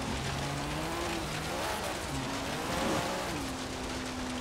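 Car engine and tires in a racing video game, a front-drive car with 700 horsepower, steady broadband motor roar with shifting engine tones, continuous and fairly loud, no talk.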